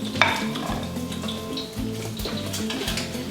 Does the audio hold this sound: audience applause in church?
no